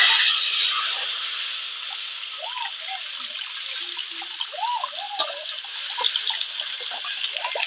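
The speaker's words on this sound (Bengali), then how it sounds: "এখন জল দিয়ে দিলাম" Water pours steadily into a cooking pot in a home kitchen, a continuous close trickle and splash running for several seconds with small gurgles throughout.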